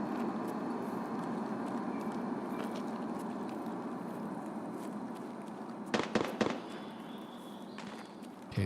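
Grenade explosions in the Escape from Tarkov video game: a few sharp, close bursts around the six-second mark, with a final thump at the end, rising over a steady backdrop of rumbling game noise.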